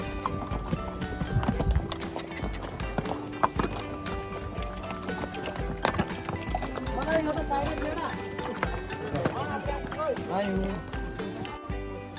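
Horse hooves clip-clopping during a horse ride up a steep slope in Pahalgam, a rhythmic clatter of steps heard under frequent talking.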